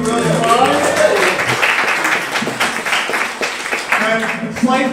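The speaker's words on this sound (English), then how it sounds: "Give him a round of applause, Mr. William Barnes." Audience applauding a local poet at a Beltane gathering, a burst of clapping that swells and carries on while voices talk over it throughout.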